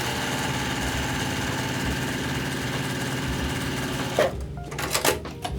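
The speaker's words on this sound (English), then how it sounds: "Okay, I'm going to sew directly on that line." A sewing machine hums steadily up close as it stitches quilt squares for half-square triangles along a drawn line, a continuous motor whir that stops after about four seconds and gives way to fabric handling and light clicks.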